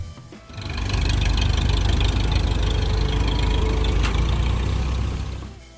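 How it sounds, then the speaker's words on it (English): A Ford 8N tractor engine idling, a steady, close, low mechanical chug that rises in after half a second and holds evenly before easing slightly at the end. "The Ford 8N, the tractor that brought the machine age to every dirt road and backfield in the Midwest."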